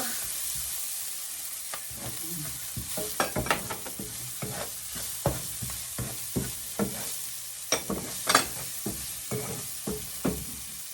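Onions and garlic sautéing in a pan for shepherd's pie, a steady close sizzle with frequent stirring scrapes and spoon taps throughout, no talking.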